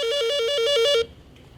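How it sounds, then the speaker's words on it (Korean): A telephone rings on the bridge of a gas carrier ship, a loud warbling electronic trill repeating rapidly for about a second before cutting off abruptly into quiet room tone. "선교에서 전화벨 소리가 요란하게 울린다."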